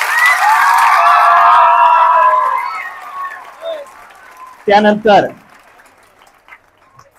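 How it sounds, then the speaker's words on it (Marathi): Students cheer and applaud a newly elected head boy at an English-medium school assembly, a loud dense burst of clapping and voices that fades after about two seconds, followed by a short spoken phrase. "सत्य जोरदार टाळ्या वाजवा एकदा."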